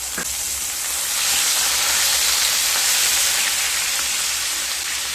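Onion paste, two medium onions ground fine, hits hot oil in a pan and sets up a steady, loud broadband sizzle and hiss that swells after the first second and holds throughout, with no voices.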